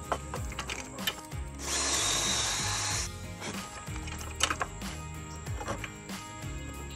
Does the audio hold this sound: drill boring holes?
yes